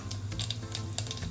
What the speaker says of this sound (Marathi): आता फोडणी देते. पहिलं राई टाकायचं,